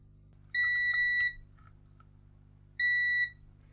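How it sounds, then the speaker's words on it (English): A multimeter set to continuity beeps while probing the button of a faulty JBL Flip Essential Bluetooth speaker: two steady, loud electronic tones, the first lasting under a second and the second following after a short pause, with faint handling clicks between. "Multimeter in continuity."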